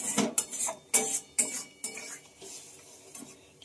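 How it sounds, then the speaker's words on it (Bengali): Spoon clanking and scraping in a pan as tamarind water is mixed into a mourala fish curry, a series of sharp metallic knocks at an uneven pace, close by and with no talk. "কিছুটা পরিমাণ তেঁতুল জল দিয়ে দিয়েছি আর ভালোভাবে মিশিয়ে"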